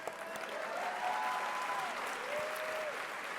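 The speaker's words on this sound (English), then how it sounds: "I think that maybe we should give our servers a round of applause" A banquet crowd at a gala dinner gives a steady round of applause for the servers, a dense, even wash of many hands clapping from a distance, with faint voices mixed in.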